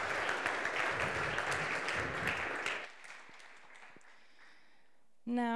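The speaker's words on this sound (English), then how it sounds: "Let's give a round of applause to our speakers." Audience applause for the speakers at a policy discussion event on innovation, growth and the state, a dense round of clapping that stops abruptly midway, leaving a quiet room before a voice begins speaking.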